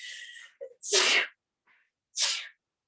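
A loud, close sneeze bursts out in two sharp blasts, preceded by a short breathy intake, with silence in between.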